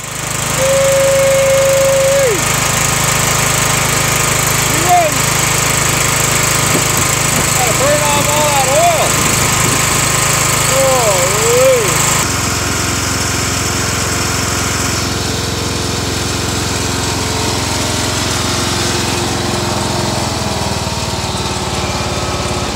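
A Kohler Courage small engine runs after a head repair with a leaking intake valve fixed, a loud, steady close-up drone, joined partway through by brief squeaky chirps and a shift in tone.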